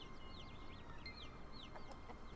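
Chickens cluck in the video game Lost Ark, a string of short, quick bird calls over a constant ambient game background.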